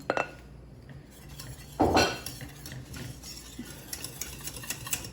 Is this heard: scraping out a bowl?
yes